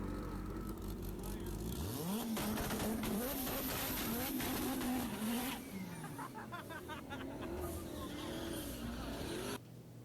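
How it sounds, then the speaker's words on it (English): Very loud cars rev and accelerate close by at a car meet, engines roaring through rising and falling revs with a sharp burst of acceleration, then a lower idle rumble as the noise eases off. "Some of the loudest cars I've ever heard."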